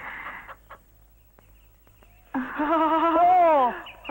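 A chicken being caught squawks loudly in a rising, strained burst after a stretch of near silence with faint thumps and scuffling.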